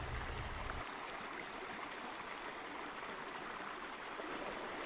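Broad steady rush of a river stream flowing over rocks at Mt Barney, a continuous close hiss of water with no voices, a deeper low rumble briefly at the start.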